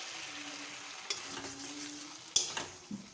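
Ground cumin sizzles in a hot pan as it is stirred, a close steady frying hiss with a couple of sharp spoon clinks against the pan near the end, short and without speech.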